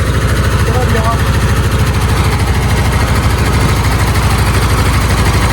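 Engine of a 34-year-old van running steadily close by while the carburetor is adjusted, a loud even rapid idle pulse with mechanical vibration throughout, no voices over it.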